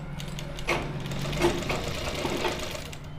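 A sewing machine stitching a kurti sleeve runs in a steady rapid mechanical chatter close by, with slight surges in pace and no talk.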